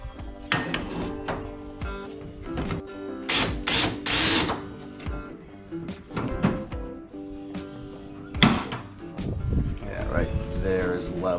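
A power tool driving fasteners to attach motor mounts to the transom of a 1648 jon boat, sounding as short whirring and ratcheting bursts up close, mixed with clanks and someone talking.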